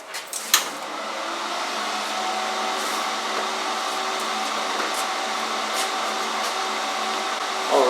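An Alpha TIG 201XD welder, fifth version, switched on with its cooling fan running: a steady, even whir that holds throughout, with a sharp click near the start and faint clatter, and no talking.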